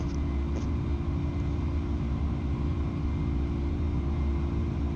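Airliner engines at high power during a takeoff roll in a flight simulator, a steady loud roar with deep rumble and a constant whine layered on top.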